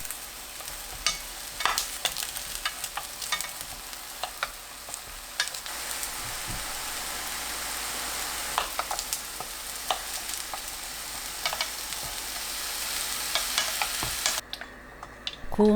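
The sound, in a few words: eggplant pan-frying in a skillet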